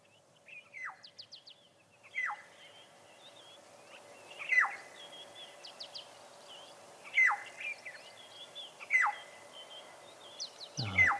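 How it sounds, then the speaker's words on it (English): A Burchell's cuckoo, or rainbird, calls out of doors in a series of short bubbling phrases repeated every couple of seconds, moderately distant over a faint steady hum, with other small bird chirps scattered between. "There goes the cuckoo again."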